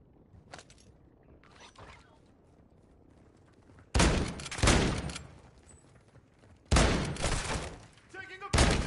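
In Call of Duty DMZ, a few faint shots early on give way to three loud, close bursts of automatic gunfire, each lasting about a second or more.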